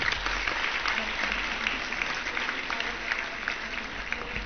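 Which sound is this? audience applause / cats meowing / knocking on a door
audience applause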